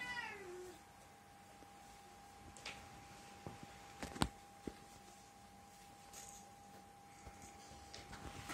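A domestic cat meows indoors, a faint high cry near the start followed by scattered light ticks and taps over a quiet background hum.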